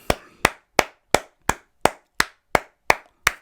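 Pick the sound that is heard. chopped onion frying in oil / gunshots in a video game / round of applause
round of applause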